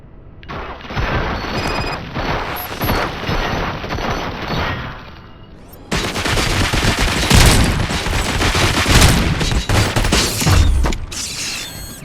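Heavy video-game gunfire in RoboCop: Rogue City, sustained volleys of shots with mechanical clatter, growing louder and denser midway through, with no talking.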